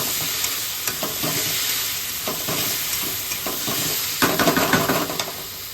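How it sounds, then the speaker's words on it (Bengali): Paneer is stirred into a spiced masala frying in oil, giving a loud, close, steady sizzle with repeated scraping strokes of a spoon against the pan that grow busier toward the end. "এই দেখো, এবার এটা ঢেলে দিই পনিরটা। এটা দিয়ে একটু নাড়িয়ে নিই।"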